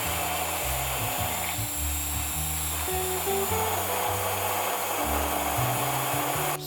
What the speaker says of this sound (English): And then I just blend it up.